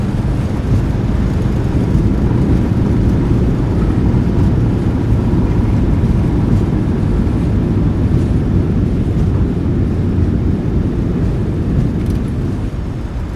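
Boeing 737-900ER thrust reversers roaring steadily after landing in a flight simulator, a loud continuous broadband rumble with constant intensity throughout and no voices.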